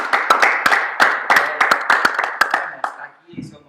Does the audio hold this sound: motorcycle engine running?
no